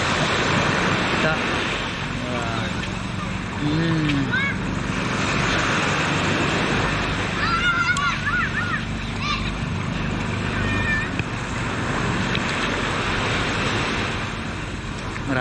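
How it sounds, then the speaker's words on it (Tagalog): Rough sea with heavy waves, a continuous loud wash and surge of water with wind noise throughout, voices talking faintly in the background over the roar. "Maalon dito mga bay oh."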